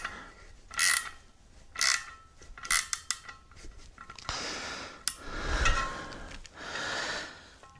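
A ratchet with a deep-wall socket tightens a nut against rubber on a 1975 Ford 550 backhoe, giving several short bursts of close clicking, with heavy breathing between them.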